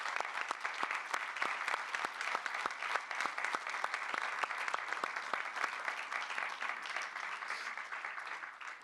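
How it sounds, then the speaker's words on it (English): An audience at a film conversation event applauds actor Udo Kier with sustained, dense clapping that holds evenly for several seconds and then tapers slightly toward the end. "I think we should really give a round of applause to Udo Kier."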